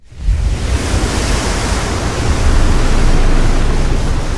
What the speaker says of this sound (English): Number 5. Tsunami.